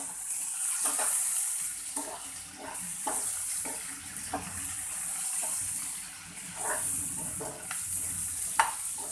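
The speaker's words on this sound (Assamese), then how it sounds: "দেখিছে নহয় এয়া ধুনীয়াকৈ ফ্ৰাই হৈ গৈছে" Chilli paneer frying in a pan with a continuous hiss of sizzling oil, punctuated by repeated spatula scrapes and stirring clatter at a loose, uneven rhythm, close and moderately loud, with no talk.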